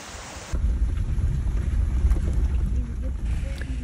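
Triple Falls near Jasper in Northwest Arkansas pours steadily, a continuous broadband rushing roar of falling water heard from the top of the falls, loud and unbroken throughout.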